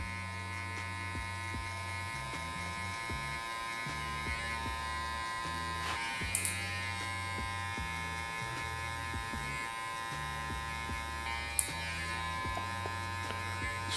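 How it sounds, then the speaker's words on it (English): Electric beard trimmer fading a bushy beard, a steady close buzzing drone that shifts pitch in short steps as the lever opens and closes, with a couple of brief clicks. "our trimmer, we're just gonna go ahead and just soften the line a little bit."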